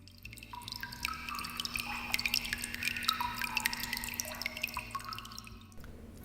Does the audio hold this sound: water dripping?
yes